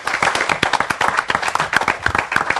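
Indoor audience at a 25th-anniversary broadcast for the local radio station Weert FM claps steadily, dense close applause filling the whole stretch without speech.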